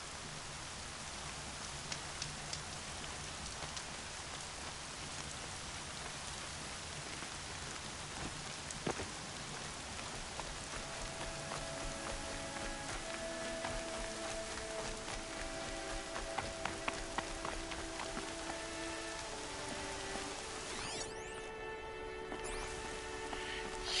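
Rain falls steadily in Horizon Zero Dawn, a constant hiss of drops pattering on surfaces with scattered brief taps and soft distant rumbles, alongside faint tonal game ambience.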